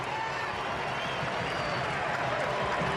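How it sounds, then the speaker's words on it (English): German football fans cheering in a stadium during a World Cup match against the USA, a dense, continuous roar of crowd noise, steady and loud throughout. "The German faithful in the crowd erupt."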